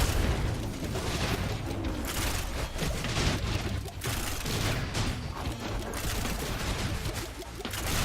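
Missile launchers fire constantly in Risk of Rain 2, producing a dense, unbroken barrage of crackling blasts and booms that stays loud and steady throughout with no gaps.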